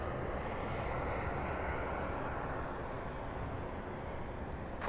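A jet airliner roars steadily at Louisville International Airport, a broad, even engine rumble that holds at moderate loudness for several seconds, heard from some distance with no speech over it.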